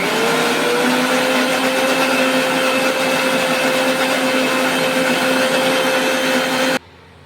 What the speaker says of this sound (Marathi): आणि हे मिक्सरला ग्राइंड करून घ्यायचं।